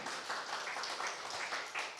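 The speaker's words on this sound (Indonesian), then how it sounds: "Beri tepuk tangan dong saudara," A church congregation at a Sunday communion service claps together, a faint, even patter of many hands lasting about two seconds, heard from a distance.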